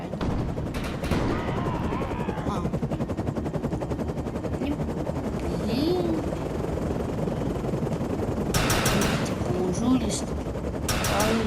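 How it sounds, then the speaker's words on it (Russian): A video game helicopter thrums with a rapid rotor chop throughout, mixed with bursts of machine-gun fire and gunshots at the start and near the end. "Вон вертушка."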